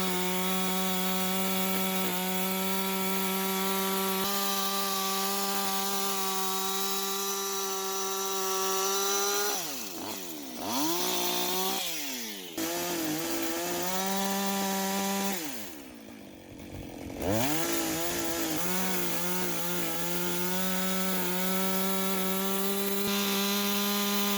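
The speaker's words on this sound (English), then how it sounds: "Once I got a better chainsaw, it made it a lot easier to finish cutting the mortise on the rest of the corner post logs." A chainsaw cuts a mortise into a heavy corner post log, its loud, steady engine whine running throughout and twice bogging down and dipping in pitch as the chain bites deeper into the wood. No voices.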